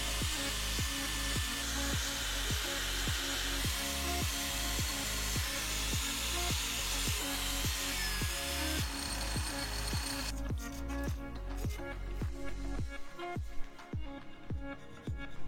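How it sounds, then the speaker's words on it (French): Rotary wire brush scrubbing corrosion off the rear brake hub of an Alfa Romeo 159, a steady loud whirring grind with rapid rhythmic scraping pulses, continuous and close, with no talk. "Maintenant je vais finir de nettoyer ce qui reste de corrosion avec la brosse métallique."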